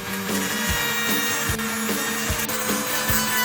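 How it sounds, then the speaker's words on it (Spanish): Repeated scraping strokes of sanding rub across a hard plastic surface at a steady back-and-forth rhythm, close and fairly loud, with no voices. "afinamos el área de corte lijando la superficie."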